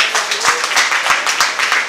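A church congregation applauds during a Spanish-language sermon, with dense, rapid clapping at a steady level throughout the short stretch.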